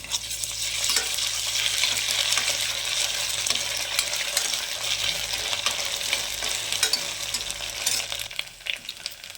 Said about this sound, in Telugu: ఉల్లిపాయ, కొంచెం అల్లం వెల్లుల్లి పేస్ట్ వేస్తున్నానండి